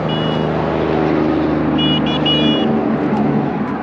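Car horns honk repeatedly in steady roadside traffic, with several distinct toots over a constant rumble of passing vehicles and engines, loud and close.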